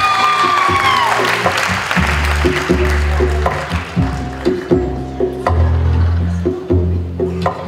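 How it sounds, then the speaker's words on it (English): Wedding guests applaud the newly married couple after their first dance: a lively burst of clapping and some cheers, with a tonal sweep at the start and deep rhythmic music thumping beneath as the clapping continues. "Let's give them another round of applause"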